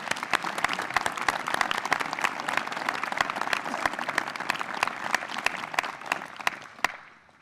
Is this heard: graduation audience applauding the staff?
yes